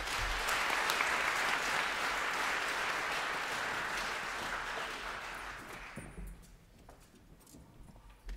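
Concert audience applauding a performance with a big band in Ventspils, a dense, loud crowd clapping that holds steady for about six seconds, then fades quickly into a quiet hall.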